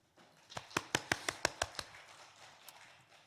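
Short burst of about eight sharp claps from a church congregation, evenly spaced and fading after a couple of seconds, following a sermon call for applause.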